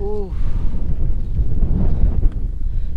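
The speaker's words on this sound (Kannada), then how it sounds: "ಈಗ ಗಾಳಿ ಬರ್ತಿದೆಯಲ್ಲ" Steady low wind rumbles and buffets the microphone throughout on the Kumara Parvatha trek, with a brief tonal whine at the start.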